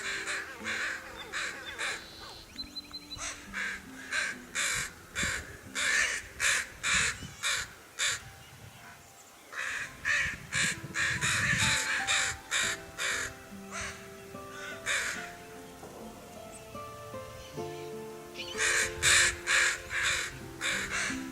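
Crows caw repeatedly while harassing an eagle at Coffman Cove, with loud, harsh calls arriving in rapid bursts and short pauses between volleys, fairly close and outdoors.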